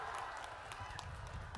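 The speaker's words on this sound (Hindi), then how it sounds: "संजय जायसवाल के लिए जोर से ताली बजाओ सभी लोग।" Crowd applause at a political election rally in Bihar, a dense, steady wash of clapping throughout with a busy crowd murmur underneath.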